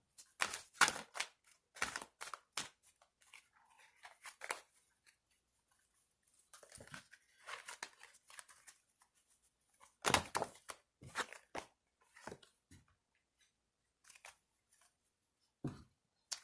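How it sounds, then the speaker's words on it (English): Oracle cards being shuffled and pulled from a deck, with crisp bursts of riffling and snapping between quiet gaps, close and moderately loud, with no talk. "I'm going to go ahead and pull your oracle cards."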